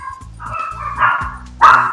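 Dogs barking at home near a player of Spyro 3: Year of the Dragon, several loud, close barks and yips in quick succession, with a sharper, louder bark near the end.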